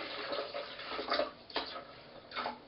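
Water poured from a measuring cup, about two cups, for making raw vegan almond milk: a few short, soft splashing bursts, fairly quiet and close, with no voices.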